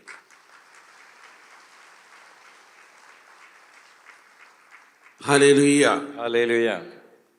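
Audience applause during a marriage-preparation talk by a priest: a steady, moderate wash of clapping that runs for several seconds before a loud voice abruptly breaks in.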